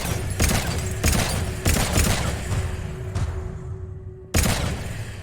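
Sustained gunfire in a Mass Effect 3 ending cutscene, the destroy ending: loud, dense bursts of shots and booming impacts in rapid repeated volleys, with a brief cutoff before the firing resumes.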